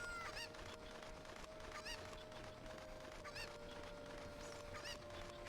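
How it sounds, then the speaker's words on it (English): Chickens in The Legend of Zelda: Ocarina of Time cluck in repeated short bursts over a steady game soundtrack, faint and evenly spaced across the scene with no talking. "Link, grab a chicken!"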